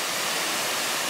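Steady rushing white noise of falling water at Iron Creek Falls, a constant even roar with no breaks.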